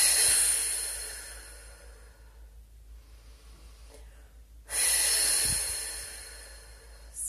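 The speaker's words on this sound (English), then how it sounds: "Let's do three breaths." Slow, deep breaths during a guided meditation, each a long airy exhale fading gradually, then a fresh inhale, close and quiet with no talking.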